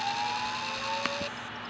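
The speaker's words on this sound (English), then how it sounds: "Click the silence button, but the alarms are still flashing." A fire alarm in the Roblox video game sounds a steady electronic tone that cuts off near the end, with a couple of faint clicks.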